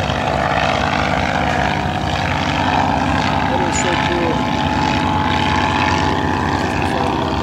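A 1911 Curtiss Pusher aircraft flying at an air show at NAS Patuxent River, a steady loud propeller-engine drone throughout, with a continuous low rumble.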